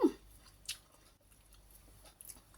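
Pickled spider plant with fresh chili is chewed with quiet, close mouth sounds, a few soft crunches and wet squishes spread over a low background.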